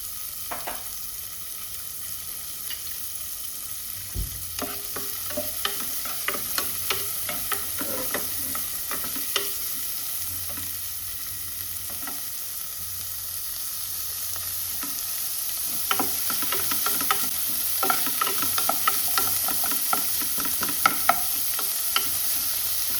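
Onion frying in oil in a pan, a steady close sizzle with frequent light scraping and stirring clicks throughout, no talking.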